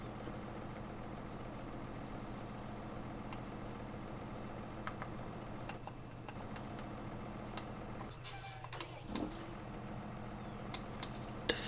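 Tractor engine idles in Farming Simulator 17, a steady low rumbling drone running throughout with a few light clicks and a brief hiss near the end.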